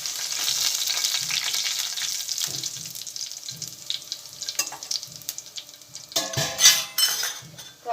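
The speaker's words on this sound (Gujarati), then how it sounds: "એક જ મિનિટ આપણે લસણને થોડું સાતળી લઈશું" Garlic paste sautés in a pan for a Gujarati moong curry, with a soft steady sizzle and occasional spoon clinks and scraping against the pan, fairly close.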